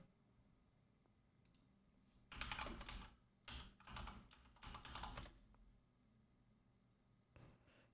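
Bursts of rapid keyboard typing, close and crisp, in several short clusters separated by brief pauses, with no voices.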